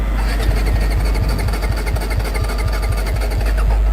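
A Bajaj Dominar 250 BS6 motorcycle, out of petrol, cranks without starting: a loud, close, rapid rhythmic churning of the starter that runs steadily throughout without the engine catching.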